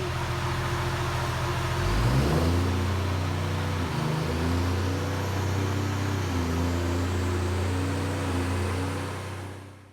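A diesel ratrod engine is revved hard during a dyno tuning pull, a loud sustained drone whose harmonic tones climb and shift as the pull builds, then holding steady before easing off at the end.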